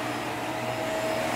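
Vacuum cleaner running at full suction, a loud steady whine and airflow roar with a constant tone, close and uninterrupted, no voices.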